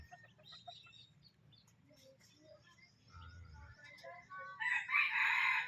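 Roosters crow at dawn, their cock-a-doodle-doo calls ringing out at a moderate distance among scattered chirps and clucks of other birds, growing louder and brighter toward the end over a faint low hum.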